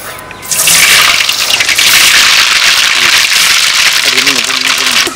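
Hot oil hisses and crackles loudly as mustard seeds sputter and pop in a dense, steady patter, cooking village wedding food, with a voice speaking briefly near the end.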